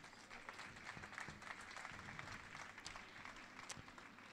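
Concert audience applauding a drummer at a live acoustic show, a dense steady patter of many hands at moderate distance, lasting throughout without a break.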